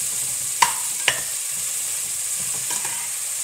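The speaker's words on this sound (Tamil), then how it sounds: "அது வரைக்கும் பொறுமையாக நீங்கள் வெங்காயம் வந்து நல்லா ஃப்ரை ஆகட்டும்." Onions frying steadily for a mutton gravy, a soft continuous sizzle in the pan with a few sharp clinks of a spatula scraping and stirring, close and without talk.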